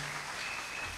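Applause for the parents at a wedding blessing ceremony, a short, soft burst of many people clapping, steady and somewhat distant, with no talk over it.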